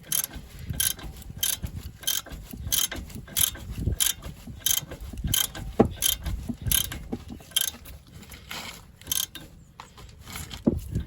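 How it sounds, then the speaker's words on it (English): A ratchet clicks steadily as bolts are tightened on the driveshaft of a 2015 Vauxhall Mokka. The rapid pawl clicks run close and continuous over a dull mechanical rumble, with no talking. "So now what we want to do, tighten these down."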